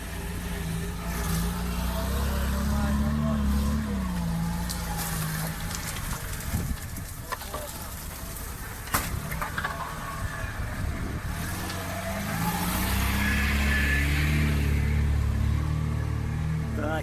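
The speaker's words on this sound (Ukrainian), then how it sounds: "Вальтер, дальше проезжай!" A car on an outing into the forest revs and pulls away, its engine rising and falling in pitch through long accelerating stretches, with clattering and rustle from the rough ground in between.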